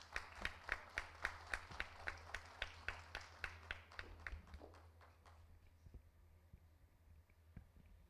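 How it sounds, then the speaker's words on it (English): Hand claps at a smart hospitals and diagnostics summit ring out in a quick, even rhythm for about five seconds, then trail off into near silence. Soft and somewhat distant. "Kindly keep the applause going."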